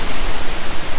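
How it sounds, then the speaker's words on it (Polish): Steady, dense roar of a waterfall in the mountains near Da Lat, Vietnam, loud and close, filling the whole moment like a broad hiss of spray. "Jesteśmy pod wodospadem."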